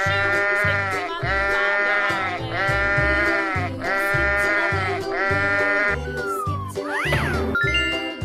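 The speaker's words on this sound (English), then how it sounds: "Sheep." Cartoonish sheep bleating from a 3D animal video game, several loud, wavering bleats in steady succession over a bouncy musical backing with jingling sound effects.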